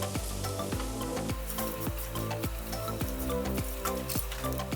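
Garlic and dried Italian seasoning sizzle steadily in a pan while a utensil stirs and scrapes, producing a regular ticking rhythm over the constant frying hiss, heard close and at moderate volume.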